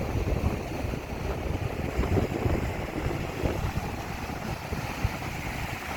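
Strong wind buffets the microphone while waves break at sea around a fishing boat, a steady, rough roar with no voices.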